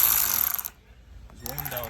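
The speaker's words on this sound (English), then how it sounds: "I'm just gonna take out your 10mm bolts" Ratchet working on 10mm bolts during dash removal on a 2018 Ford Explorer, a short close burst of clicking that stops abruptly, then faint handling noises follow.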